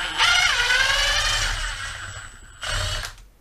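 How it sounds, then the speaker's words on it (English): A Milwaukee M18 FID2 Gen3 Fuel impact driver backing screws out of wood: a loud rattling burst winding down over about two seconds, then a short second burst after a pause. "So how much noise is it going to make when I actually remove the screws?"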